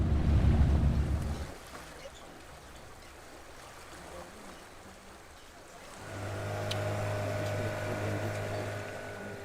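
A boat motor hums low and steady beneath wind and rushing water on the Nile near its source in Uganda, fading then returning louder with a droning tone.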